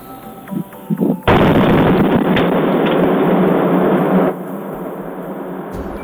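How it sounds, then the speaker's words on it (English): Explosion at the TPC Group chemical plant in Port Neches, Texas, at night: a sudden loud broadband roar and rumble that bursts in and holds for about three seconds before dropping to a lower lingering rumble, with faint crackles beforehand. "a devastating explosion occurred at TPC Group chemical plant in Port Neches"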